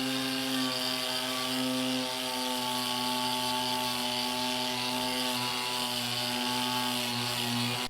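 A power tool stripping rust from a classic truck gives a steady, buzzing whine with strong tonal overtones that runs unbroken for several seconds, then cuts off abruptly at the end.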